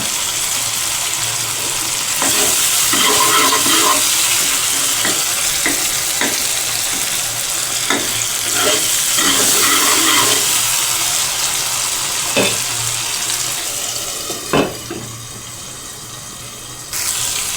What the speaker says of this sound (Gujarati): ટમેટા નાખ્યા બાદ પણ તે સળી ન જાય એટલે તેમાં વચ્ચે આ રીતે હલાવતા રહેવાનું